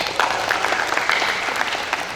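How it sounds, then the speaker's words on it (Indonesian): Audience applause at an OSIS student council training event, a dense steady patter of many hands clapping throughout at moderate loudness, with a faint voice briefly underneath. "Berikan tepuk tangan"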